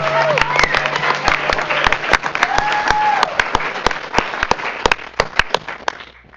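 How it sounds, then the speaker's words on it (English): Board meeting attendees applaud award winners with scattered, uneven clapping. Sharp individual claps ring out over a low hum while faint voices murmur beneath, and the clapping tapers off at the end. "let's give them one more round of applause"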